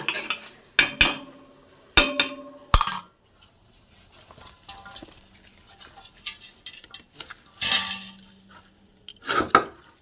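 Vegetables, including eggplant, being cut in a home kitchen for a curry, heard as a few sharp knife-on-board knocks early on, then softer scattered clinks and rustles with another burst of cutting near the end, no talk.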